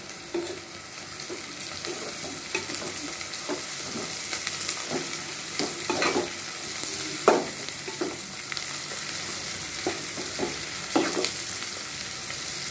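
Cauliflower and tomato curry fries in a pan, a continuous close sizzle under repeated scraping stirs of a spatula that come in uneven bursts.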